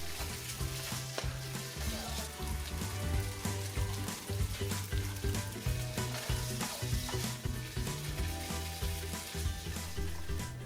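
Marinated chicken pieces stir-fried in hot oil over medium heat in a wok for Kung Pao chicken, giving a loud, continuous crackling sizzle broken by steady scraping strokes, with a low tonal hum underneath.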